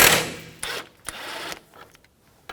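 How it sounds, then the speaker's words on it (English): An 18mm socket on a ratchet loosens caliper bracket bolts on a 2007-2017 Jeep Patriot 2.4L, giving a loud opening burst and then a few short ratcheting bursts, each followed by a sharp metallic click. "Now we're going to dismount our caliper bracket. And that's two bolts at the back there and their 18mm socket."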